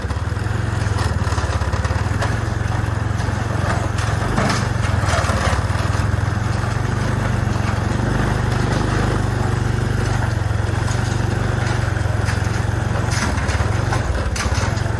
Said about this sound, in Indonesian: Ini pakai motor kebon ya.